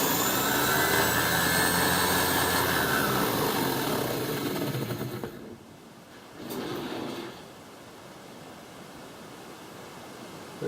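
A drag bug engine runs on a dyno, giving a loud, broad roaring whine that rises and then cuts off partway through. After that only a quieter hum remains, with one brief burst.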